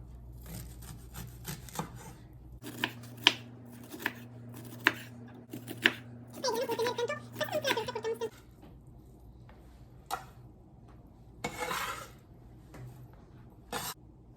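Knife chopping corn for relish on a cutting board, with scattered crisp taps and a short run of quick cuts against a faint steady hum; quiet and close, with no voices.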